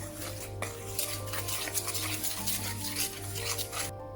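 Naan dough being stirred and mixed with yogurt in a bowl: steady scraping and clinking of a utensil against the dish, close and continuous, with a constant low hum underneath and no talking.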